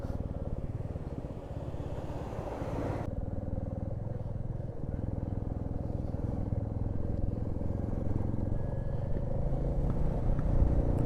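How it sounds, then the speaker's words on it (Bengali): Motorcycles of other bikers passing on a wet mountain road during rain, a continuous engine rumble and road roar close by, steady throughout. "আরও সব যাচ্ছে, সব বাইকাররা।"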